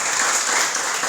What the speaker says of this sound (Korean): 우리 함께 감사 박수하겠습니다